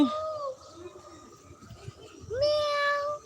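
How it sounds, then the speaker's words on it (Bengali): A cat meows in a village yard in the morning, with a rising call at the start and a clearer, longer meow near the end, heard under nearby talk and faint birdsong. "এই বিড়াল আসছে বিড়াল আসছে"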